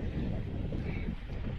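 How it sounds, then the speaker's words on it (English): Strong wind gusts buffet the microphone on Leo Beach in the Philippines, a steady loud low roar with waves faintly beneath, no voices. "It's so windy, bro. I hope you can hear me."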